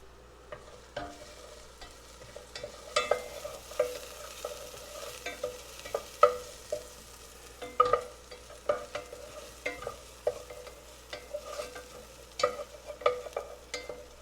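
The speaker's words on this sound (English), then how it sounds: "You can start to smell those onions cooking." Scallions and onions cooking in extra virgin olive oil in a hot pan: a gentle continuous sizzle close by, broken by irregular clicks and scrapes of a utensil stirring, with no voices.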